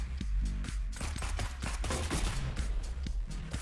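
Rapid explosions and gunfire in the video game Neon Abyss, a dense barrage of sharp blasts and thuds packed close together with no pause.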